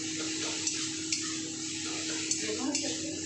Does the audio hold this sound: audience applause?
no